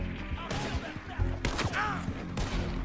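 Gunfire in Red Dead Redemption 2 cracks out in a few sharp, broadband bursts spread over a couple of seconds, mixed with rumbling game noise and no talk.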